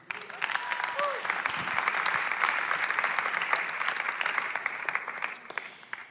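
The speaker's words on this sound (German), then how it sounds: "Salome, Applaus für dich." Audience applause at a Sunday night church service fills the room, a dense moderately loud patter of many hands with a few sharper claps, a voice briefly heard near the start, tapering off at the end.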